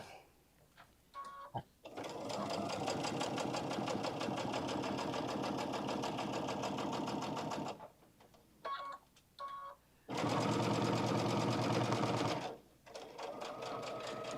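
A sewing machine stitches faux leather for a bag in long, fast, evenly whirring runs, close and loud, broken by short pauses with small clicks between bursts.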